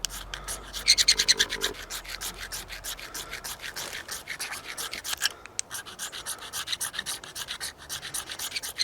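A pure magnesium rod is scraped into filings, giving a run of rapid, rhythmic rasping strokes, close and fairly quiet, with a brief pause midway and no talking.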